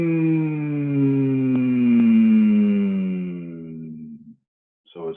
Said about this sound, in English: we're going to do a kind of a grounding hum tone.